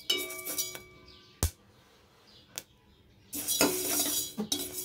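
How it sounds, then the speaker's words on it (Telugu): Horse gram roasting dry in a pan: a few sharp isolated pops, then a dense burst of crackling toward the end, close and with no talk. "ఇవన్నీ ఉలవలు ఎగిపోయాయండి, చిటపట సౌండ్ వస్తుంది."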